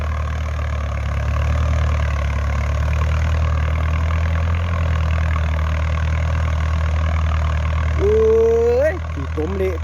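A Ford tractor's low, steady engine idles continuously and close by, with a rising whine near the end as it revs briefly.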